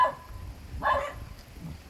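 A sick pet dog lets out a short, weak whimpering bark, brief and fairly close, in an otherwise quiet moment.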